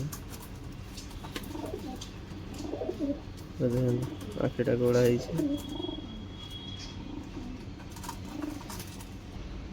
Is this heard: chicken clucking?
no